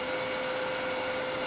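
Sandpaper rubbing a small wooden pendant Christmas ornament to round it over, a brief steady hiss of abrasion, close and fairly quiet.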